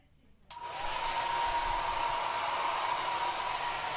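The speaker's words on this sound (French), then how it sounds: "cette fois-ci on va continuer avec un sèche-cheveux" A hair dryer starts after a half-second of quiet and then runs as a steady, loud whooshing hiss with a faint whine, recorded on a binaural microphone as the dryer moves around it.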